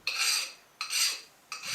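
A hand file scrapes flat across a bronze bushing surface in three steady strokes, each a close, bright rasp with short pauses between, and no voices.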